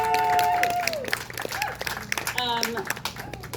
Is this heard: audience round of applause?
yes